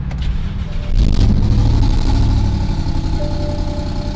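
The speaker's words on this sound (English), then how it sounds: "Start the engine." A BMW E70 engine cranks and catches, giving a sudden loud burst about a second in. It then settles into a steady, close, rumbling run with no talk over it.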